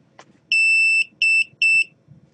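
Piezo buzzer on an Arduino Multi-Function Shield gives three sharp electronic beeps, one longer tone followed by two shorter ones, loud and close against a quiet background.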